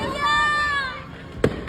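Fireworks display at night in a subdivision in Barangay 19B, Davao City: a whistling tone with a voice underneath, then one sharp, loud burst and a fading tail.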